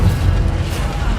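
A quick Incendio fire spell bursts in a Hogwarts Legacy duel, a short heavy whoosh-boom buried in dense, loud rumbling game combat.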